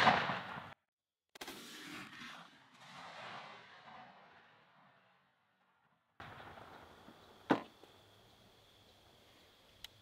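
A Franchi Affinity shotgun fitted with a Patternmaster Black Mamba choke fires outdoors at a patterning target: one sharp, loud blast late in the clip, with quieter rumbling noise and gaps before it.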